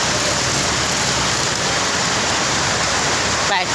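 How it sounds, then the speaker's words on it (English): Steady, loud rain hisses continuously, a dense broadband wash with no pauses, close by and filling the whole stretch. "Oh no, it's raining."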